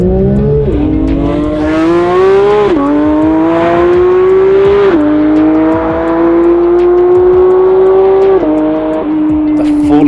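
A Porsche 992 GT3 with its 500-horsepower flat-six is heard accelerating hard, loud and close. The engine pitch climbs steadily through several rising sweeps, with brief dips at each gear change.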